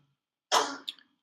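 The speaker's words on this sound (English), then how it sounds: "I guess you're coughing, not really sneezing" A single sharp cough rings out close by during a quiet pause in a coding lesson, with a short second hack trailing after it.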